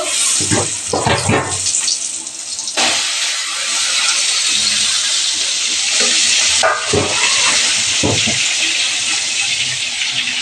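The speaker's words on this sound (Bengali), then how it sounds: "এই যে বেগুনটা ভেজে নেব" Eggplant frying in hot oil in a wok makes a continuous bright hiss and sizzle, with a person speaking intermittently over it.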